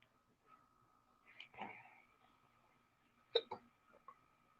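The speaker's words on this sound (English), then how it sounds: "I got the hiccup." A person hiccups in a quiet room, a few short, sharp catches of breath close to the microphone, with soft breathing between them.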